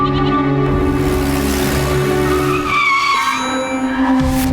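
A car brakes hard to a stop, its tyres skidding and squealing loudly in one continuous, harsh slide lasting several seconds.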